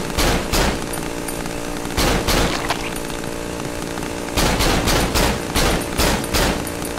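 Gunfire in the horror game Cry of Fear, loud and close: bursts of rapid shots around 0–0.7 s, 2–2.8 s and 4.4–6.8 s, separated by a dense, noisy stretch, with no talking.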